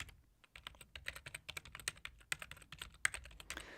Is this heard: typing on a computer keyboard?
yes